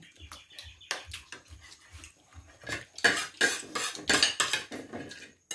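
Metal forks and cutlery clatter against dishes in a series of sharp, bright clinks and rattles, sparse at first and then busier and louder, close by in a quiet home kitchen.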